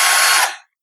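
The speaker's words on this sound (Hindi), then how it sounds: "बटन को ज़ोर से दबाने पर ड्रिल मशीन अपनी फुल स्पीड पर चलनी शुरू होगी" A Bosch 12V cordless rechargeable drill spinning at full speed: a loud, bright whine held steady, then winding down quickly to silence.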